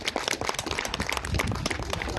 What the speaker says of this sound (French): et on peut applaudir, bien évidemment